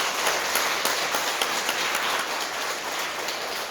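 Audience applause after a Buddhist sermon at Hwaeomsa temple on Jirisan, a dense, steady wash of many hands clapping with no break, loud and continuous throughout.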